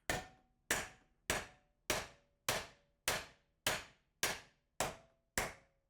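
Metal struck by a hammer ten times at an even, unhurried pace, each sharp close blow ringing briefly before fading, with nothing else heard.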